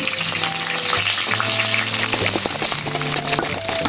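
Chopped onion sizzles loudly in a hot pan with garlic and a bay leaf, a constant crackling hiss, close and steady, with occasional faint tones in the background.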